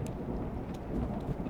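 Low, continuous rumble of thunder from outside, heard from inside a room as a steady, muffled roll with no clear peaks and no one talking.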